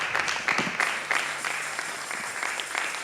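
A church congregation applauding together, bursts of clapping rising and falling at moderate distance with a quiet room tone beneath.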